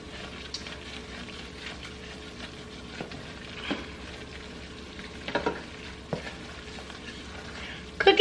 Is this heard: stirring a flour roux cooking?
yes